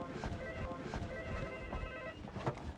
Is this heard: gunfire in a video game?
no